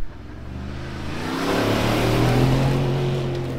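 A Porsche Cayenne engine revs hard as the SUV climbs a steep slope during a rescue attempt, a loud, continuous rising drone that swells and holds steady at high revs.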